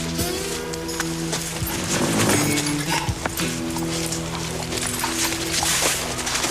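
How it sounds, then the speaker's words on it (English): A horse's hooves clop in a fairly quick, uneven rhythm, close by. A steady low hum and other background noise run underneath the whole time. "Horse giving you some trouble, Fox?"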